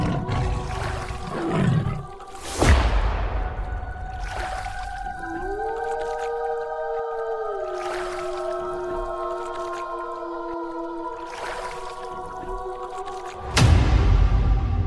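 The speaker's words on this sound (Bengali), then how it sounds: "ওই দেখো, বাঘটা ওখানে দাঁড়িয়ে আছে।" A tiger in the Sundarbans gives drawn-out, tonal, wavering roars, with loud, harsh bursts near the start and again near the end, and no talking over it.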